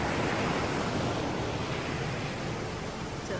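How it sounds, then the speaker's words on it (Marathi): Steady, full rushing of river water flowing close by along the trail to Wallace Falls in Washington, a constant broadband wash with no pauses. "इथे एक नदी वाहते आहे जे वॉटरफॉलचं जे पाणी आलेलं आहे तर हे तिथे खूप छान वाहत आहे"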